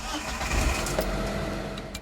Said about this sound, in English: Driving the vehicle her husband bought for her to pick up recyclables in is Tzu Chi volunteer Gu Meizhen of Pingdong.